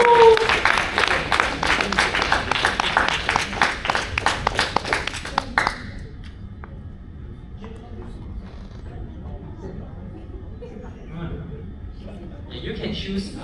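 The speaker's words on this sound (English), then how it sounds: "Can we have a round of applause?" An audience at a Toastmasters-style meeting gives a round of applause, with dense clapping for about five seconds before it stops abruptly, followed by quiet room noise and faint talk.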